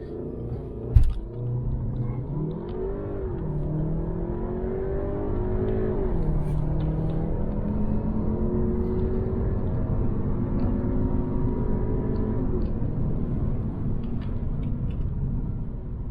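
An Audi A3 8V 1.8 TFSI revs hard in sport mode with launch control and surges into strong acceleration, its tone rising and falling through gear-like steps, loud and close with a sharp click at the start.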